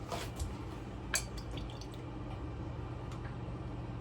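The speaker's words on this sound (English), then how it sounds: "So when you put the juice in, Katie, ladle hot cooking liquid" Hot cooking liquid is ladled into a jar of canned tomatoes, heard as quiet pouring and dripping with a couple of small splashy trickles over a faint steady background hum.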